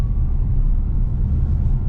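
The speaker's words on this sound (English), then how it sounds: "And the motors sound good." A 2021 Polestar 2 Performance Pack's electric motors pull hard uphill, giving a steady low rumble with a faint whine that holds level throughout, heard from inside the car with no talk.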